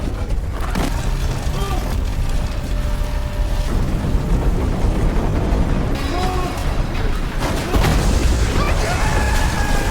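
A massive earthquake tears through a city in a film, with dense, continuous rumbling, crashing debris and bursts of destruction, loud and unbroken throughout.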